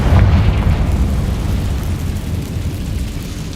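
A Confringo blasting spell in Hogwarts Legacy bursts into a loud, low booming explosion that rumbles and decays steadily, with no voices over it.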